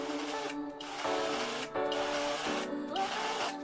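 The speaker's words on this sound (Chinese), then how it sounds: "我们轻轻的按捏开关，看一下慢档的一个启动线型啊" A Rechi 7220 cordless lithium drill started in its low gear, its motor whirring up in about three short runs separated by brief pauses, each with a rising whine, close and fairly loud.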